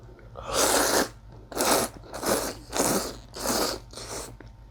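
Someone eating convenience-store aglio olio style ramen noodles with garlic oil, about six close, loud bites or slurps in a regular rhythm.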